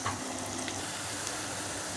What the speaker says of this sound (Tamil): வெங்காயத்தை நல்லா பொரிச்சு எடுத்துக்கணும்